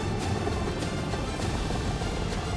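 A helicopter hovering over the Dakar rally start line: a continuous, heavy rumbling wash with faint regular rotor pulses, steady and moderately distant, with no talk.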